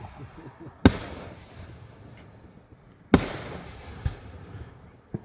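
Fireworks bursting at night, two sharp loud booms about two seconds apart with crackling tails and a smaller pop after, over faint background murmur.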